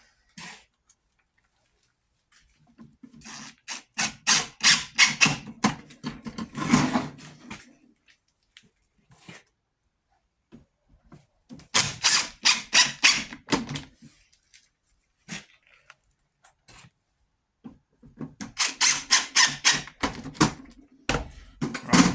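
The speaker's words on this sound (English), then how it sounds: "So now we get our 25mm Tech screws, and in each corner we insert them in." A drill drives 25mm Tek screws into the corners of a wooden board to fix a Timms trap to it. The bursts of rapid ratcheting run about three to five seconds each, loud and close, with quiet gaps between them and no talk.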